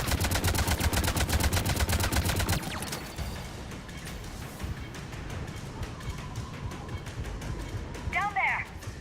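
Rapid automatic gunfire in the video game Mass Effect 3, a loud burst of fast repeated shots that gives way to scattered firing and battle noise, with voices talking over it.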